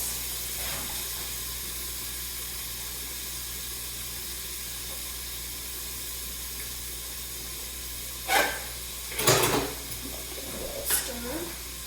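Onions sizzle softly in a pot with a steady low hiss, broken near the end by a few brief clatters of stirring.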